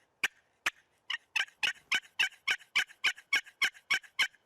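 An aluminum turkey call imitating a hen's yelps, a rapid series of about a dozen loud, raspy, gravelly notes speeding up slightly, close and alone.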